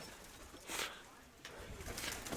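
Pigeons coo softly at close range, a few brief hoarse bursts against faint background noise, with a voice speaking nearby.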